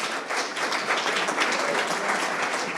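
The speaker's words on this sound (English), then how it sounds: "Can we have a big round of applause," Audience applause at a sales leaders awards ceremony, a dense, steady wash of many hands clapping throughout, fairly loud and continuous with no clear talk over it.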